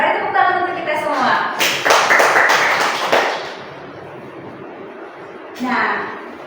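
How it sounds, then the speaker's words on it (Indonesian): Hands clap together in a classroom during a chemistry lesson, a burst of claps lasting a second or two that is mixed with a teacher's voice, followed by a short trailing patter. "Mari tepuk tangan untuk kita semua."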